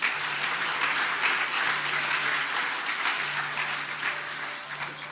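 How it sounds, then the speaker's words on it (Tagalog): An audience at a National Baptist Day celebration claps in a steady, moderate wash of applause heard alone, with a faint tonal hum beneath. "Palakpak po tayo muli"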